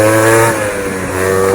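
A 2005 Gilera Runner 50 two-stroke scooter revs up close and loud, its buzzy pitch rising, dipping, then climbing again.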